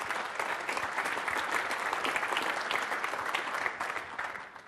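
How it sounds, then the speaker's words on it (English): Steady, dense applause from a large conference audience at a technical session, a loud continuous wash of clapping that holds for several seconds before starting to fade. "Yeah, you can clap."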